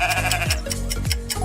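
Sheep bleating in a farm-animal nursery rhyme setting, two or three wavering, close and loud bleats in quick succession.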